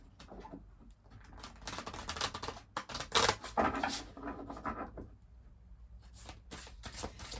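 Oracle cards of gods, goddesses and angels are shuffled by hand close up, producing soft papery riffles and flutters in quick irregular bursts, fairly quiet and with no talking.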